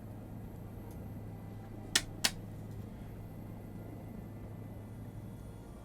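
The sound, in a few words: helicopter engine running down, video game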